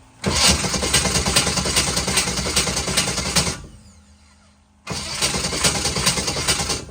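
A Sleek Craft jet boat engine that has sat unused for years cranks and fires, then runs loud and rough for a few seconds before cutting out. After a short near-silent pause it catches again and runs.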